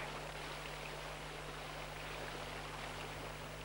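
Creek water flows in a steady, unbroken rush, with a faint low hum underneath and no one speaking.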